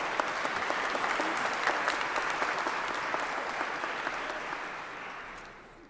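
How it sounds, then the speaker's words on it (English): A large audience at a Founders Day convocation gives a soloist a sustained round of applause, dense and even throughout, heard from a slight distance and tapering off at the end. "Give them another round of applause."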